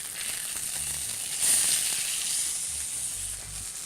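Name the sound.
Alaska sockeye salmon fillets frying skin side down in pan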